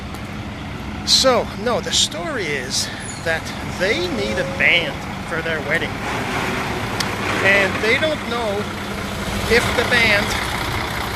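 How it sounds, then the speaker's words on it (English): A truck's engine rumbles low and steady nearby as someone talks over it, the mechanical drone sitting underneath his voice throughout. "Sorry about the noise, I'm just passing by this truck and it seems to want to just"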